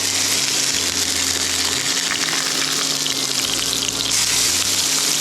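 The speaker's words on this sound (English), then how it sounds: "just let it pan fry each side for about 3 to 4 minutes, then we can flip it around." A hamburger patty pan frying in oil, a dense, loud, unbroken sizzle and crackle heard up close throughout.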